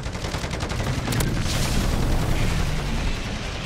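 MTZ 7.62 assault rifle gunfire in MW3 Zombies, a dense, loud stream of rapid shots and booming impacts that blend into a continuous roar, with no talk.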